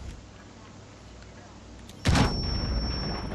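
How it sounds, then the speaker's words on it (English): A grenade goes off in the tactical shooter Rainbow Six Siege, a sudden loud blast after a stretch of low background noise, followed by a sustained ringing tone and lingering rumble. "I'm gonna chuck a grenade in there"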